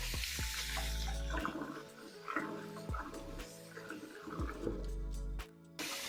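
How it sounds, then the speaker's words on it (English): Corn on the cob is rinsed under running kitchen tap water, a faint splashing stream behind quiet background tones and occasional knocks. "We're gonna rinse it off a little bit."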